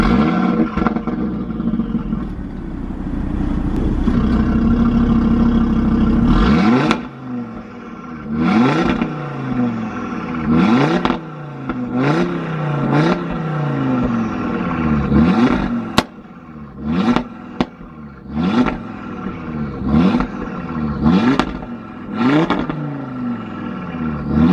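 Heard from outside the car, an Audi RS3 engine idles with a deep rumble, then is blipped repeatedly in sharp, loud revs that rise and fall in quick succession, each burst dropping back to a throbbing idle.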